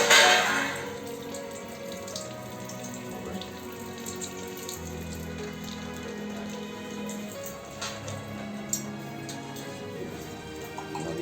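An alkaline water ionizer dispenses water in a continuous, even stream, opening with a brief louder gush before settling into a steady running-water sound close by.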